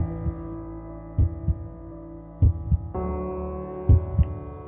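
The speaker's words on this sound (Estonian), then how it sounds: "Tunneta oma südamelööke." Heartbeat thumps under a steady low hum in a guided heart-opening meditation, paired beats recurring slowly and evenly, soft and close, with no talking.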